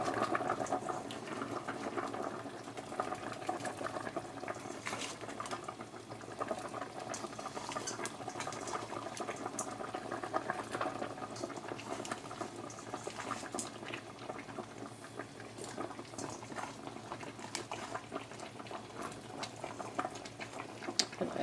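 Shrimp go into a pot of boiling water for a shrimp boil, with faint, busy bubbling and light pattering from the liquid running steadily throughout.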